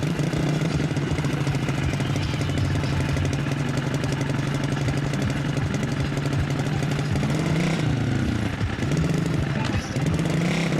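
A single-cylinder motorcycle with a sidecar runs at a steady, loud, close idle with a throbbing low beat throughout, shifting pitch briefly near the end as the throttle changes.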